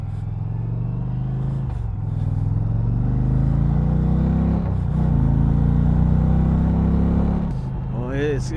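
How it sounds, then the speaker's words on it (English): A 2020 Indian Challenger motorcycle accelerates on the road, its engine drone loud and close with rising pitch through several gear changes, and wind noise over it. "I'll test it out a little bit more as far as acceleration and just performance of the bike."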